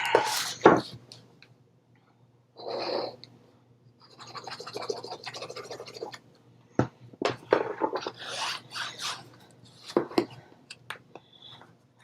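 Folded chipboard being burnished by hand, bursts of dry scraping and rubbing strokes of varying length separated by short pauses, close and moderately loud, with a sharp tap or two between them.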